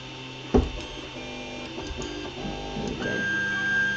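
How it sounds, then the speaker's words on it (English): An Ender 3 Pro 3D printer at work, a knock at the start, then close, whirring stepper-motor tones that shift pitch as the head moves, with a steady fan hum underneath. "So this is going to be the second attempt at printing."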